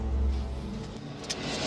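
A car pulls away with a low, steady engine rumble that holds fairly constant and close, with a faint higher squeak partway through and no talking.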